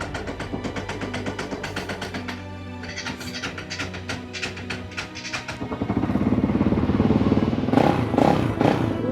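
A motorcycle just picked up after shipping by cargo ship runs nearby, its engine putting along with clattering mechanical ticks, then swelling into a louder, rougher rev toward the end.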